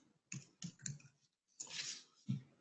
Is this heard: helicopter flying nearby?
no